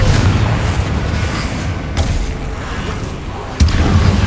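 A Confringo blast spell erupts in Hogwarts Legacy: a dense roaring rumble runs throughout, punctuated by two sharp cracking booms, loud and near, with no voices.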